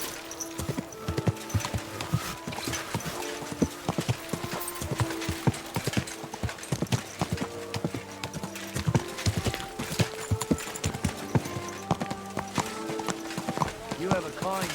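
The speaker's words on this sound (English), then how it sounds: "And immediately I jump on a horse." Horse hooves clip-clop at a steady riding pace in the video game Kingdom Come: Deliverance 2, with occasional snorts, game music and ambient sound layered beneath.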